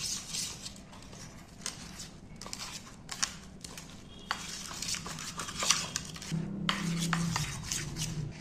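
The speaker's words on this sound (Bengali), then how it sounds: "এইবার জল দিয়ে, অল্প অল্প করে জল দিয়ে ভালো করে ফাটিয়ে ফাটিয়ে একে বাটারটা তৈরি করতে হবে" Egg batter being beaten with water in a bowl, a steady scraping, tapping stir with small clinks against the bowl, continuous and moderately loud, with a faint musical tone toward the end.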